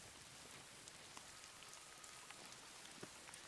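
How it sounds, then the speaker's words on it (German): Steady rain patters across the ground in the prehistoric survival game Dawn of Man, a dense even hiss of drops with occasional louder taps, soft and continuous without voices. "Es regnet auch noch."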